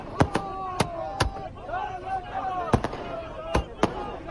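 Fireworks crackle and bang over a noisy crowd at a celebration in Karnal, Haryana, with several sharp, fairly close bursts spaced irregularly while voices and whistling carry on underneath.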